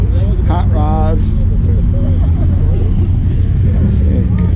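Hot rod track car engines at the 2022 28th Street Metro Cruise car show in Grand Rapids, Michigan, giving a loud, steady low rumble throughout, with people talking over the noise.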